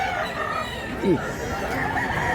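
A rooster at a Mantalungon, Cebu chicken market gives a short crow amid a noisy crowd, with people talking and other fowl clucking around it.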